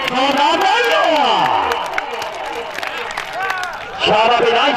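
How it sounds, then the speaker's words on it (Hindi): A crowd at a rural kabaddi match breaks into clapping and cheering, with an announcer's amplified voice calling over the noise and a fresh swell of applause near the end. "जोरदार तालियां"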